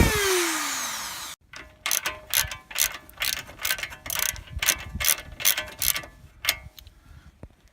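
Castle nut being turned onto a lower ball joint stud whose damaged threads were ground down, producing a rapid run of close, crisp ratcheting clicks in an even rhythm after a brief whine and a pause.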